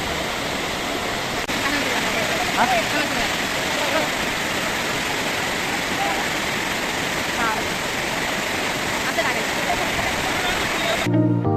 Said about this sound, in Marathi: असा मस्त असा धबधबा आहे